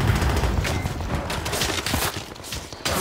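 A grenade blast and rapid gunfire erupt in a Moscow-front custom campaign of Call of Duty: World at War, with dense, overlapping shots and bangs filling a loud, continuous battle soundscape.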